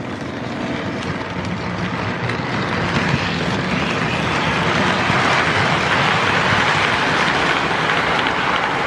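Lionel "The General" model train running around a home layout loop, a steady, loud, close rumbling rattle of wheels on track that carries on without a break.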